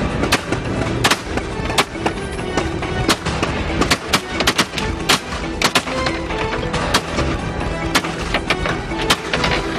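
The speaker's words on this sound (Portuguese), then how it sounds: "Mais tiros." Rapid bursts of gunfire in a police chase after a bus robbery on a highway, sharp cracks and pops coming in irregular clusters over a loud, constant background roar with no talk.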